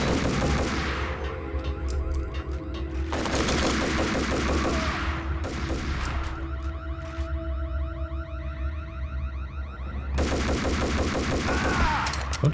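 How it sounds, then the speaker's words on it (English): Beretta pistol fire in the 2001 PC shooter Max Payne: loud bursts of rapid gunshots in three clusters with brief lulls between, set against a steady game soundscape and a sustained tone. "And then switch over to our Beretta. Get rid of this guy."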